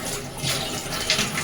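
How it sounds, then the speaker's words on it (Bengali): Hilsa fish simmers in a thin broth, giving a soft, continuous bubbling and sizzling hiss with small spattering pops, fairly quiet and close. "দেখুন কিরকম ফুটছে মাছটা, আর তার পাশ থেকে তেল বেরিয়ে আসছে।"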